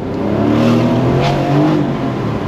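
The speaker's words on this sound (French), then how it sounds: "Petit retour d'échappement au moment de rétrograder" Aston Martin Vantage roadster F1 Edition engine note under downshifting, a steady loud exhaust rumble with swelling revs and faint crackle, close and continuous without talk.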